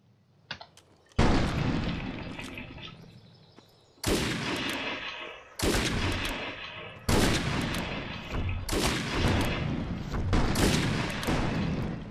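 Sniper rifle shots in the video game Defiance: a short burst, then five heavy booming shots spaced about 1.5 seconds apart, each loud and close with a long rumbling tail that overlaps into the next.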